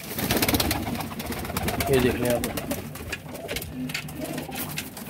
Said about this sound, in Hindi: टैडी, गोल्डन, सियालकोटी, हर तरह का कबूतर हैं